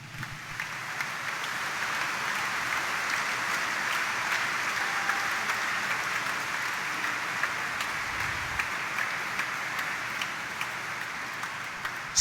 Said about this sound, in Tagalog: Kaya maaari bang ibigay ang pinakamalakas na palakpak